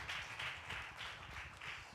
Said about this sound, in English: Just a hand clap, praise him